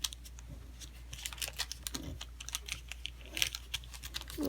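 Origami paper being folded and sharply creased while flattening a Venus flytrap model: a quiet run of close, crisp crinkles and taps scattered irregularly over a low steady hum.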